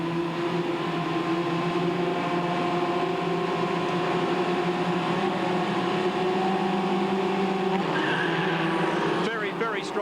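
Formula Ford race cars at the start of a 15-lap race at Oran Park circuit, Sydney, in 1987, a loud sustained pack of revving engines droning together, with a rising burst of higher engine whine near the end.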